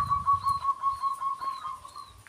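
Repeated soft coos of a zebra dove over a low, rumbling background, with a high thin whistle recurring throughout.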